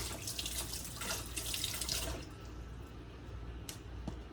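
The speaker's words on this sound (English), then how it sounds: "Wash my hands." Water running from a kitchen tap while hands are washed during cooking, a steady splashing flow that eases after a couple of seconds, close and alone.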